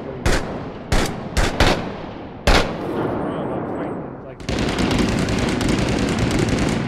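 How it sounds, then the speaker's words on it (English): Gunfire in the video game Six Days in Fallujah: several sharp, loud single shots ring out, then a dense, sustained stretch of continuous firing follows. Faint voices are present. "I can't hear you with all this goddamn gunfire."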